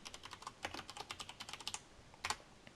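Rapid keystrokes on a computer keyboard while working in Photoshop, a quick burst of light clicks followed by a pause and a couple of louder taps near the end, close and clear with no talking.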